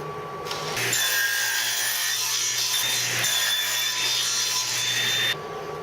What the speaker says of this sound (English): I'm going to use my nifty table saw sled to trim one edge of these two boards